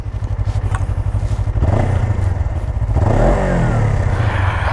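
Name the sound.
2017 Suzuki GSX 250R motorcycle engine running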